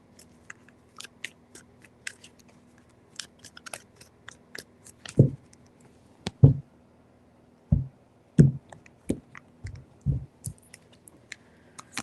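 Tarot cards being shuffled in short bursts, several distinct riffling snaps spaced a second or so apart over a quiet background, close to the listener.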